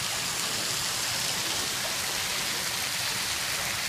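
Garden fountains spraying at Saheliyon ki Bari in Udaipur, a dense, steady hiss of falling water like heavy rain, loud and continuous with no pauses.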